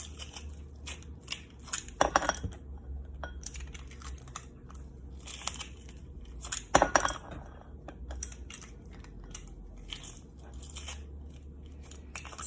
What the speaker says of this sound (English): now we are putting it through our garlic press